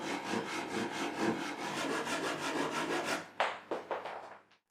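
A hand saw cuts across the top of a white oak table leg with steady rasping back-and-forth strokes, close and continuous, then slows into a few separate final strokes before stopping.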